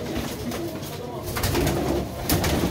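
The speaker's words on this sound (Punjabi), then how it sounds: "ਫੌਜੀ ਪਿਲਖਣੀ ਤੋਂ ਆਈ ਹੋਈ ਕਬੂਤਰੀ ਹੈ ਜੀ" Pigeons cooing at close range, a soft repeated low murmur over steady background noise, with faint talk now and then.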